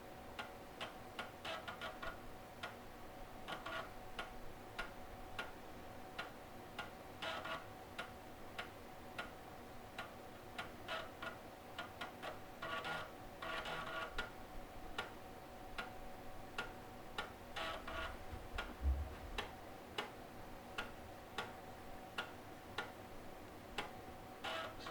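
An old 486 DX2 66 computer's drive works away with faint, regular ticking and clicking, steady and fairly distant through a quiet room with no talking.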